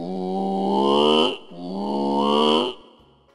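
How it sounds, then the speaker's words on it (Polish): A moose call from a children's cartoon: two long, loud, moaning bellows that rise slightly in pitch, each about a second and a quarter long, separated by a short break and heard alone. "Łoś."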